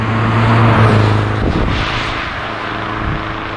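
A 1955 Mercedes 190 SL runs steadily while driving, its engine a continuous broadband drone with low rumble and faint wind, fairly loud and with no talk over it.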